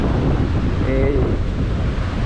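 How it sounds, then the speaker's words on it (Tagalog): Strong wind buffets the microphone on a Boracay beach during bad weather, a constant loud rushing roar with surf mixed in. "malakas lagi yung hangin"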